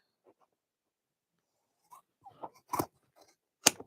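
Thread snipped on a sewn tote bag, a few faint, close, crisp scissor cuts in quick succession, with no talk.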